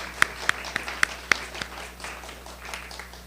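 Audience applause at a poetry reading, opening with a few sharp, separate claps near by, then thinning into softer, scattered clapping from a small crowd.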